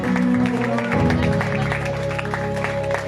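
Congregation in a church service clapping and cheering in praise, a steady roar of applause with voices mixed in over sustained organ or keyboard chords, loud and continuous throughout.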